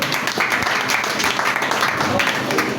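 A church congregation applauds with steady, dense clapping that fills the room for a few seconds, mixed with faint voices and cheers from the crowd.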